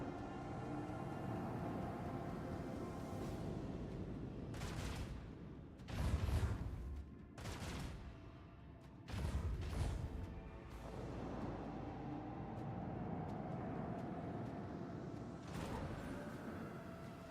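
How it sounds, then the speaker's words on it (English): Torpedoes launch in the Warhammer 40,000: Rogue Trader space battle, heard as deep low booming bursts around six and nine seconds over a continuous rumbling game soundtrack with no talk. "Torpedoes launched."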